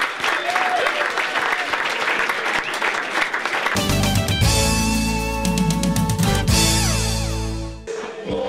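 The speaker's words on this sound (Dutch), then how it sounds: "Applaus voor uzelf." An audience applauds steadily at a gathering where a fundraising total is announced, then loud music with a heavy bass beat cuts in and plays over the tail of the clapping.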